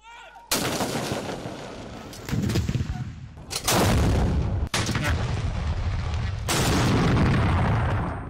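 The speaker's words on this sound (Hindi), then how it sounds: "21 तोपों की सलामी से हुआ" Several loud, booming blasts in succession, each followed by a long rumbling decay, a 21-gun ceremonial cannon salute for Defence Day in Pakistan, heard outdoors.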